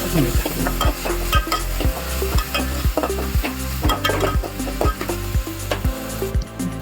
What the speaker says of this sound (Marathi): कांदा लाल झाल्यावरती त्यामध्ये टोमॅटो मिक्स करून घ्यायचा आणि त्याला परतून घ्यायचा.